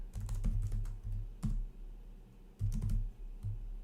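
Keys tapped on a computer keyboard while a Go build command for a web server is entered, coming in short close bursts of clicks with brief pauses between them, no voices.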